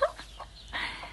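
A hen with her chicks clucks in short, close bursts, a few soft calls spaced across the moment with no talking.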